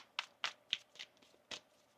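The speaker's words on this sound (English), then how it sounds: "One more shuffle here." A deck of tarot cards is shuffled by hand during a reading, giving a few quiet, quick riffling bursts spaced irregularly over about two seconds.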